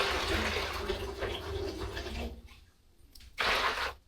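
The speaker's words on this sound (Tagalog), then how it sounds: "So lagyan pa natin ng maraming tubig." Water pours into a washbasin of soapy water with detergent for soaking a flour sack, a steady rushing fill that fades briefly before a second loud gush near the end.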